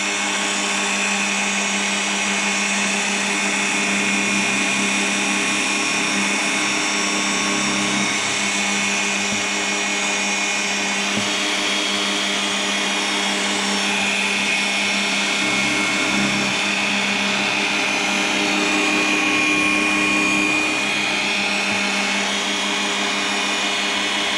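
A Ferrex drill press runs continuously with a loud, steady motor whine and grinding hum, holding level throughout with no pauses.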